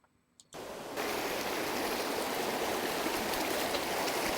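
River water flows steadily in a loud, constant broadband rush that starts abruptly after a brief quiet moment and then continues without a break.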